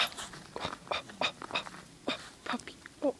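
A puppy whimpers and whines in short, faint, high-pitched bursts outdoors on a cold morning, repeated about a dozen times over a few seconds, close by.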